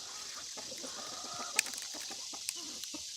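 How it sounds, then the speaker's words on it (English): Chickens on a homestead farm cluck softly while foraging for bugs on a floor, a steady low-level flock murmur with a few sharper clucks standing out. "The chickens are here to help clean"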